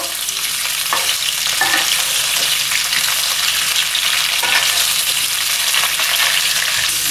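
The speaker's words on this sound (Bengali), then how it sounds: "একটা পাশ ভাজা হোক, তারপরে আবার উল্টে দেবো।" Bhetki fish frying in a pan alongside cauliflower, a dense, steady hiss of hot oil that stays loud and even from start to finish, with no talking.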